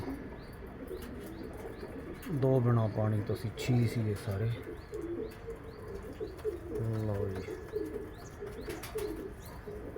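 Pigeons coo softly in the background while someone talks over them, with a few light chirps mixed in.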